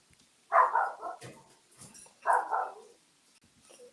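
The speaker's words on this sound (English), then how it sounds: "I got dogs barking." Dogs barking indoors in two loud bursts of several barks each, separated by a short pause, with a faint yip at the end.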